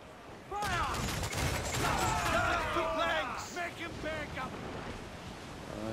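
Ship cannons in Assassin's Creed IV Black Flag fire across open sea, a loud rolling fusillade over crashing surf, wind and creaking boat noise, fading into steady ocean wash.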